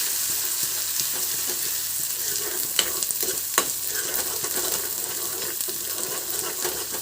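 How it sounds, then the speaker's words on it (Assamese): Ginger, garlic and green chillies fry in oil with a constant close sizzle, while a spoon stirs them and scrapes the pan now and then. "এতিয়া মই ইয়াতে আদা নহৰু আৰু জলকীয়াখিনি দি দিছোঁ আৰু অকণমান সময়ৰ কাৰণে লৰাই থাকিম"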